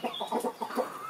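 A rooster and hen give quick, soft clucks in a short, close run of rhythmic pulses, fairly quiet with no talking.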